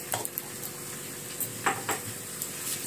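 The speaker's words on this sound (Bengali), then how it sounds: "এবার আমি এটাতে অল্প করে একটুখানি ঘি দিয়ে দেবো" Mixed vegetables cooking in a pan as ghee goes in, a soft steady sizzle with a few light stirring scrapes and clinks, close and fairly quiet.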